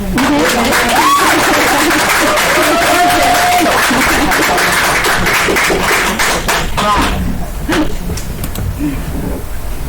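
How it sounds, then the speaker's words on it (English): A room of people claps for Lori in a thin, scattered patter beneath chatter and a rising voice, and the clapping fades out toward the end. "Should we clap for Lori?"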